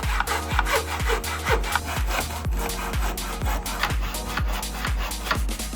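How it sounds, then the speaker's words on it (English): Wood being cut by hand with a handsaw in a miter box at a 45-degree angle for a frame, in a quick, even rhythm of rasping back-and-forth strokes, close and loud with no talking. "cut the wood with a handsaw and miter box at a"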